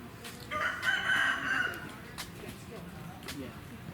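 A rooster crows once in a long drawn-out call at a fighting cock farm along the Mekong in Vietnam, fairly close, followed by light background noise and faint voices.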